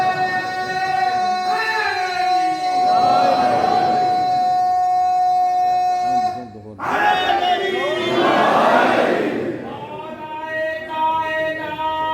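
A large crowd at a religious gathering chants slogans in loud unison, two long swelling shouted waves with a brief pause between, over a sustained harmonic tone.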